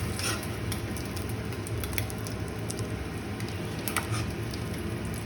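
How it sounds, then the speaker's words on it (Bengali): A steady, soft sizzle of a spice paste of garlic, dried chili and tomato frying in a pan, with faint crackles and occasional light taps over a constant low hum. "মশলাটাকে ভেজে নিই একটু"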